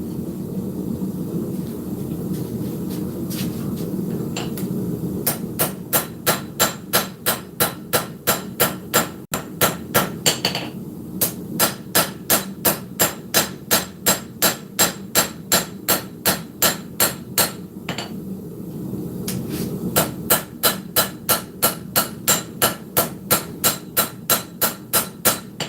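A smith's hammer rings on hot steel while forging a kwaiken blade, in a long run of steady, evenly spaced sharp strikes, loud and close, with a brief pause partway through and no talk.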